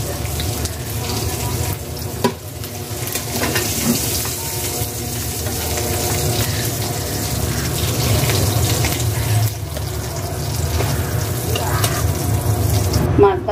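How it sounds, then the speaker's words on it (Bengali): Fish frying in hot oil in a pan, a loud, dense, steady sizzle and bubbling close by, constant throughout with a few small clatters and no clear talk. "মাছ ভাজি হয়ে গেছে, এখন আমি নামায় ফেলবো।"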